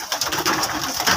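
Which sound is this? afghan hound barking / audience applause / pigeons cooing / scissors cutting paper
pigeons cooing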